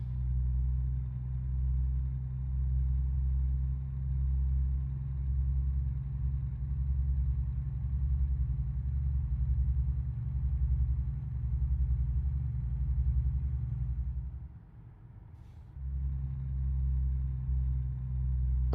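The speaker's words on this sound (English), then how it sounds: "Oh, this is where my truck starts slowing down on these small hills." A truck engine in a driving video game laboring as it slows on small hills, a steady low rumbling drone that dips briefly near the end before resuming.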